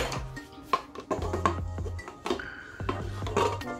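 Pecan shortbread cookie dough being mixed in a bowl, with irregular knocks, clinks and scrapes of utensil against the bowl alongside an intermittent low motor hum, close and fairly quiet.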